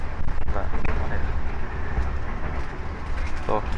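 An economy-class KA Batavia passenger train on the Gambir to Yogyakarta line rumbles steadily from inside the carriage, with a constant low rolling roar and faint clacks of the wheels.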